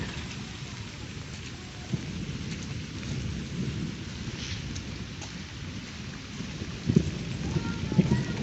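Light rain falls steadily in a village, its soft patter continuous throughout. Low rumbles of thunder roll underneath, swelling somewhat louder toward the end.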